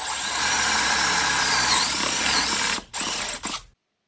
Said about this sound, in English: So let's drill this.